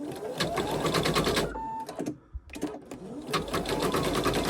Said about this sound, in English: So now I'm going to just start the machine, and this will stitch step 11.